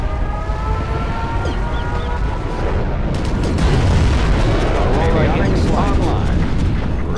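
A nuclear missile launch in C&C Generals Zero Hour roars as a dense, continuous low rumble with siren-like warbling tones layered above, loud and sustained throughout with no speech.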